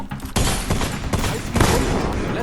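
A dense burst of gunfire in a video game, loud, rapid and continuous shots filling the moment close up, with no clear talk over it.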